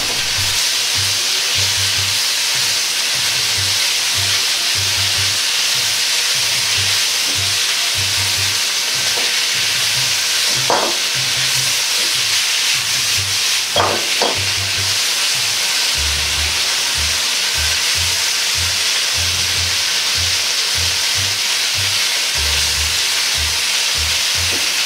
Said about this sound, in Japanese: 肉が完全に白くなり火が通るまで炒めます。